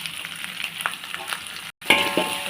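Spices and curry leaves sizzle and spatter in a hot pan for Malaysian-style fried white noodles, a steady frying hiss with a few stirring scrapes and a brief gap before the sizzle resumes.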